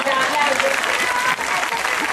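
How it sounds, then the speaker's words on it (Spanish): A crowd claps in sustained, loud applause, dense and continuous, with voices mixed in beneath the clapping. "Venga, aplausos, aplausos."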